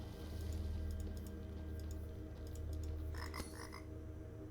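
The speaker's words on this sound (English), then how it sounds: "Little frog." Frog croaking in the video game Tower of Time, a low continuous croaking drone over soft ambient game sound, with a brief brighter chiming flourish near the end.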